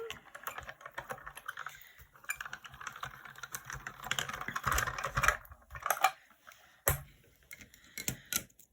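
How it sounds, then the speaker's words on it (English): A paper card for a Christmas winter-houses design passes through a die-cutting machine, heard as a close run of irregular clicks, ticks and mechanical rattles with short pauses, fairly quiet and without any talk. "And I'll run that through the machine."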